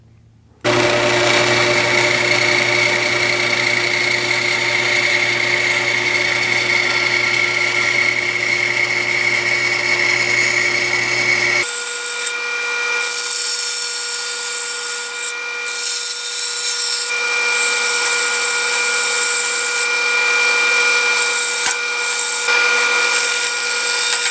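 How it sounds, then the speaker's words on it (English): A dust extractor hooked by hose to a bandsaw runs in a guitar-building workshop, a loud steady motor drone with a fixed hum that holds for about 24 seconds, its tone shifting noticeably partway through, with no talking. "I'm also going to run my dust extractor, which is hooked up by a hose to the bandsaw"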